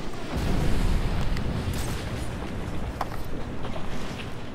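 A missile launch and explosion in the Batman: Arkham City video game make a loud, rumbling blast that rolls on as a dense, roaring boom, with sharp crackles on top.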